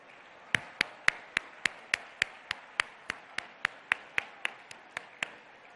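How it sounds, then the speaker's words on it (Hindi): At an iftar gathering at LB Stadium, people welcome Chief Minister Revanth Reddy with clapping that is heard as a clean, evenly spaced series of about eighteen crisp claps at a brisk steady tempo, standing out close and distinct. "खड़े होकर हमारे मुअज़्ज़ज़ वजीर आला का इस्तकबाल करें तालियों की गूंज में।"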